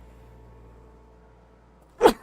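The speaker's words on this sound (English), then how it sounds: "I think I'm gonna sneeze." A single sharp sneeze bursts out near the end after a couple of seconds of near silence with a faint background hum.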